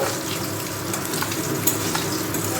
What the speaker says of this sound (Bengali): তো এখানে এখন পুঁটি মাছ ভাজছি